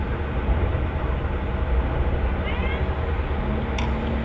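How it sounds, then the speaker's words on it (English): A pet cat meowing indoors, a brief faint mew rising and falling partway through a low rumbling background, followed by a short sharp click. "she never leaves me alone, and she meows hell of a lot"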